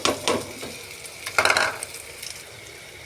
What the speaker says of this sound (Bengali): এবার আমি আদা রসুনের পেস্টটা দিয়ে দেবো।